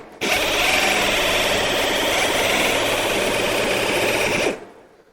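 Chief pistol grip air shears cut sheet metal in one loud, continuous rapid chattering buzz, close up, running about four seconds before stopping abruptly.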